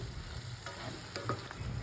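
Soybean bhurji sautéing in hot oil, a steady close sizzle with a few scraping stirs of a spoon in the pan.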